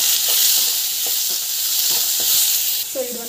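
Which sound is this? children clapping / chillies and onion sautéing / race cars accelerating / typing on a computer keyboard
chillies and onion sautéing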